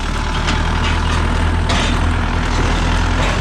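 A truck hauling a trailer across a farm field at wheat and rapeseed harvest, with a loud, steady, close engine rumble and a low throbbing hum that never lets up, and brief hissy bursts on top.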